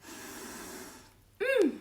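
One long, breathy sniff is drawn in through the nose, followed by a short voiced snort-like grunt.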